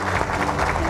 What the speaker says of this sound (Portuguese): Aplausos ao Djalma Zimmer,